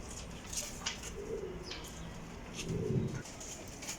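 Soft, low cooing of Ferozpuri pigeons murmurs a couple of times amid quiet background noise, with faint scattered chirps and rustling.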